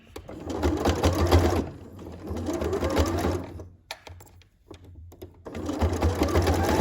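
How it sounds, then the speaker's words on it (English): A sewing machine stitches a hoodie hood seam in bursts, a close, steady mechanical whirr that pauses briefly before starting up again, running alone with no talk. "So now we're just going to stitch down to the bottom here."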